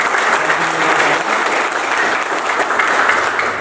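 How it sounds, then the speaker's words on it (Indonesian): A crowd applauds at an official ceremony of a regional corrections office and construction services agency in Jayapura, Papua, steady dense clapping throughout with no talking. "Tepuk tangan dulu untuk Kepala Balai."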